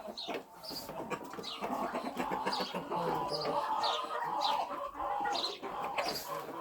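Cochin chickens scratching through rabbit droppings in a garden cluck and squabble close by, with overlapping bursts of excited calls and short squawks.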